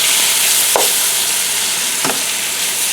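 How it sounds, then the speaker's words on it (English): Chicken sizzles in a frying pan as dinner cooks, a loud steady hiss with two brief scraping stirs, and no voices. "let this kind of sizzle for about 5-10 minutes"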